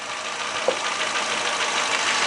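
A Renault Clio 1.0 8v D7D 2006 engine idles steadily with a smooth, even hum and a brief small knock early on, close and continuous without any talking.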